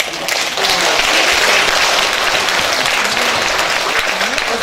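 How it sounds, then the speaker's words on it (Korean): Audience applause at a national policy debate for care workers, a dense, loud, continuous clapping from a large hall crowd, with faint talk mixed beneath the steady wash. "모든 여기 계신 분들이 마음으로 모아서 박수로 화답하시죠"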